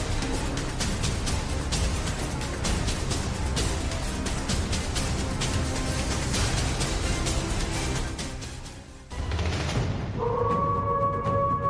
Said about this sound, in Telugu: నక్కల కోతలు వినపడుతున్నాయి.